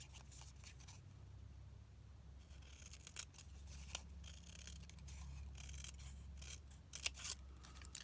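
Scissors snip through a paper card pattern, quiet and close, with soft rubbing and paper handling over a low steady hum and no talking.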